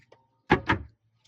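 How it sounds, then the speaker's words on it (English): A kitchen cabinet door in a camper van, mounted on European Blum hinges, swings and closes with two quick soft knocks close by in a quiet space. "All cabinet doors are on these European Blum hinges, which are really nice, good quality hinges."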